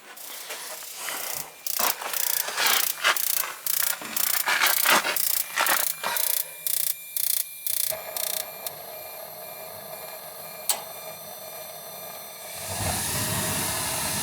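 An old gas boiler being replaced fires up after a run of rapid, loud clicking from its igniter, then settles into a steady hiss that swells into a broad roar as the burner lights.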